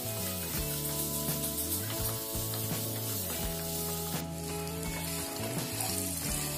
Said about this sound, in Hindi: थोड़ी सी हल्दी पाउडर और नमक डालकर पनीर को अच्छे से भूनूंगी